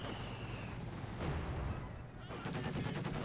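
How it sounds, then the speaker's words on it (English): A mortar shell explodes in Company of Heroes 2 amid continuous battlefield gunfire and rumbling, with a sharp burst around the middle and dense crackling afterward, loud throughout. "It seemed like the explosion noise for that mortar was slightly delayed."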